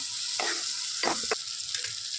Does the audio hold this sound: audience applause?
no